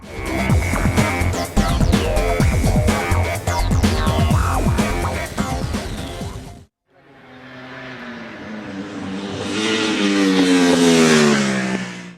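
Ducati 1199 Panigale superbike ridden on the Mugello circuit, engine revving hard through rapid gear changes up close, then a short gap and a rising high-pitched whine as the bike passes at speed.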